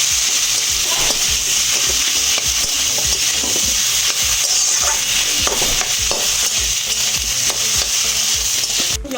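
Boiled potato filling for masala dosa, seasoned with turmeric and salt, is stirred in a hot pan, giving a continuous close sizzle punctuated by regular scrapes and taps of the spatula. No one speaks.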